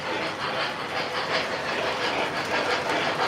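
A train rolls past close by in a loud, continuous rushing clatter with rhythmic clickety-clack pulses, heard on its own without talk.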